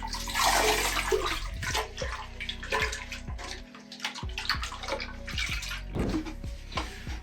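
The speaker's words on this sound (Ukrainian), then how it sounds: "колбу треба сполоснути та злити з неї стару воду" A water filter housing being rinsed and its old water poured out, heard as close splashing, gurgling and sloshing with a short pause partway through and no voices.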